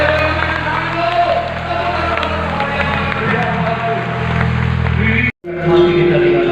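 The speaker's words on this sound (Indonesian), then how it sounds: "Tepuk tangan yang paling meriah buat Tuhan." A church congregation at a Christmas service claps and cheers loudly over a low, steady musical backdrop, with voices mixed in; the sound cuts out briefly near the end, then resumes.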